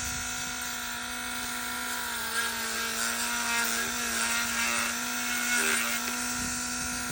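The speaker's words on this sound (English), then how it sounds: "use the speed of the rotary tool on the sanding drum to make the hole as accurate and round as possible" A rotary tool spins a sanding drum against a small plastic model tire, giving a steady high-pitched motor whine with continuous grinding hiss and slight shifts in pitch as the drum works around the hole.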